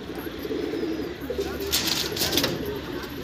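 An Andhra racing pigeon, active and restless, cooing softly while being held at a loft, with faint fluttering and someone talking over it.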